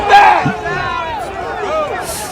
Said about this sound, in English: The Trump rally crowd is the most probably hilarious crowd ever